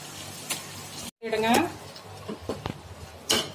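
Chicken pieces coated in ginger-garlic paste are stirred in a pan for biryani, giving a few scraping, clattering strokes over a soft sizzle, with a short voiced sound partway through.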